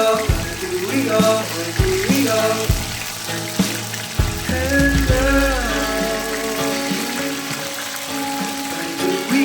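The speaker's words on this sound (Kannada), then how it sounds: "ಈ ಅಣಬೆಯಲ್ಲಿ ಸ್ವಲ್ಪ ನೀರು ಜಾಸ್ತಿ ಇರೋದ್ರಿಂದ ಈ ಥರ ನೀರು ಸೌಂಡ್ ಆಗುತ್ತೆ" Mushroom kebabs fry in hot oil on a griddle, the moisture in the mushrooms making a watery, bubbling sizzle that runs steadily throughout, with occasional clinks and a low thump partway.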